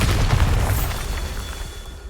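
A Bombarda explosion spell going off in Hogwarts Legacy: a loud, deep booming blast up front that rolls into a rumbling tail and fades out, with no voices over it.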